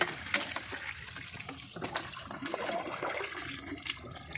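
Water sloshes and splashes in bursts as it is flung from a small vessel onto the ground before drawing rangoli, close and fairly loud, with no talking.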